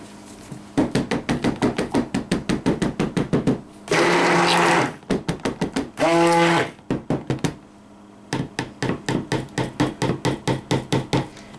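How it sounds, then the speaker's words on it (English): A blender whirs in short pulses and two longer steady runs while mixing raspberry ripple hemp oil vegan silk soap batter, loud and close, with clattering rhythmic bursts between the sustained blends. "Okay, so I'm going to blend this in real fast."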